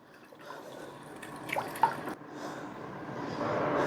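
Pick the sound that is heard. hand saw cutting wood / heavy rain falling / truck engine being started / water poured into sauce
water poured into sauce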